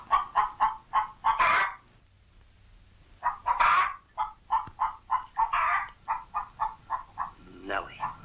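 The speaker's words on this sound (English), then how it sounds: "Lay, hen, lay." A hen in a fairy-tale castle scene gives a rapid series of short clucks in repeated bursts, loud and close, with a brief pause midway and a voice briefly heard near the end.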